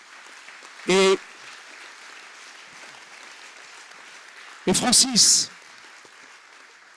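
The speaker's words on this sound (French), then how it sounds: "Donc Sedna, voilà le projet qui mérite, je crois, des gros applaudissements." An award ceremony audience at the Institut de France keeps up faint, steady applause in the background while a voice speaks two short phrases over it.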